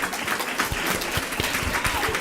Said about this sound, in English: Let's give them a round of applause, everybody.